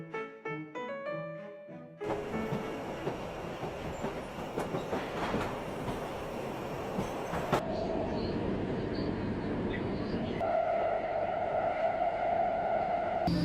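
Subway train in a video game city, a rumbling rush of wheels and carriage noise after a short musical intro, with a rising squeal and hum toward the end.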